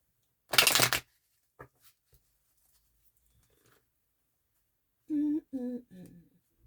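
A thick deck of tarot cards shuffled in one quick, close riffle burst, followed by a few faint taps, then a short stretch of talking.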